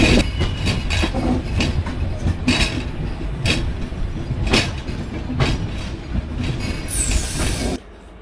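The Padma Express rolls along the rails on the Ishwardi bypass toward Abdulpur, a loud steady rumble with repeated wheel clicks and a brief high squeal near the end before the noise drops away.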